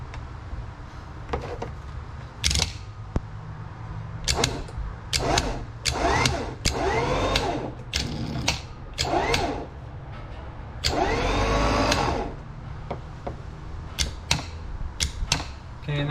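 A vehicle-mounted winch runs in free spool during the install of a hidden winch mount, giving a close, steady mechanical whir broken by repeated sharp clicks and clunks over about sixteen seconds, without talk.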